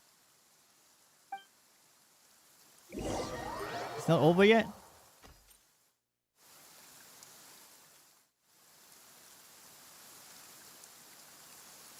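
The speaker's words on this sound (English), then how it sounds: "It's been raining" Rain in the video game Genshin Impact, a soft, even patter that rises after a burst of game music and voices and continues faintly on its own with a brief gap.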